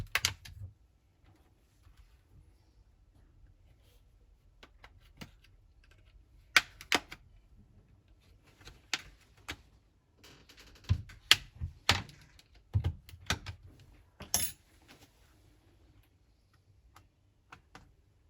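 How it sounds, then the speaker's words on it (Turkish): The back cover of a tablet is pried open during a battery replacement, producing sparse sharp plastic clicks and snaps, some in quick clusters, over near-silence with no talk. "Tekrar kapağı açıyoruz"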